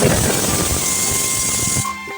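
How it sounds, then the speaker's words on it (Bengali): A pressure cooker whistles while dal cooks on the stove, a loud continuous steam hiss that runs steadily and then cuts off abruptly near the end, close by. "ওইদিকে আমার ডালের সিটি পড়ে গেল"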